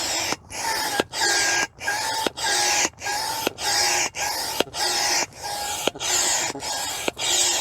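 A hand pump inflating a Crua Culla Cocoon tent insert, operated while standing, gives about a dozen steady, rhythmic whooshing strokes, each one loud and close and followed by a brief pause, with no talking.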